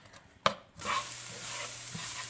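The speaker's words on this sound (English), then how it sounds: "we're just going to go ahead and mix everything all together, and we want to cook it until the onion has softened" Onion and spices are stirred in a hot pan for cauliflower rice pilaf, starting with a sharp utensil clack against the pan. A steady broadband sizzle follows, with soft scraping stirs. The sound is close and has no talking over it.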